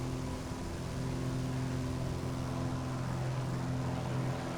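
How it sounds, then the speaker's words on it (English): A Just Flight Arrow light propeller aircraft in Microsoft Flight Simulator drones steadily, its engine hum continuous and even throughout with no talking over it. "Beautiful looking aircraft. It sounds good. I love that droning sound"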